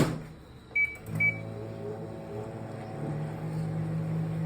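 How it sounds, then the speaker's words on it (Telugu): Low steady hum of a running microwave oven, preceded by a couple of short electronic beeps. "ఇప్పుడు మళ్ళీ దీన్ని ఒక 1 minute మైక్రోవేవ్ చేయాలి."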